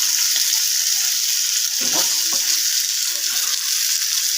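Pieces of catla, a local fish, fry in hot oil in a wok, a steady close hiss of sizzling throughout with a few soft knocks and stirring sounds.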